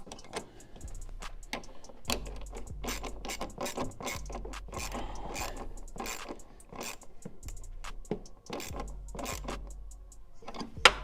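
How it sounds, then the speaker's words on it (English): A 13mm wrench ratcheting on a bolt at the intake of a BMW M340i with a B58 engine, rapid clicking bursts with pauses and small metallic clanks, close up and without speech. "We'll take a 13mm for this back bolt, and then a 13mm wrench at the bottom."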